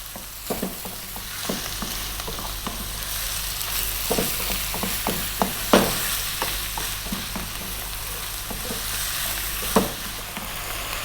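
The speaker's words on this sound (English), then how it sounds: "And then we're going to fry this around, and we're going to be moving it quite a lot for about 6 or 7 minutes." Lamb pieces, cut small, fry in a pan with a steady sizzle while a utensil stirs them hard, giving repeated scraping knocks and clacks over several seconds for an Ethiopian lamb stew.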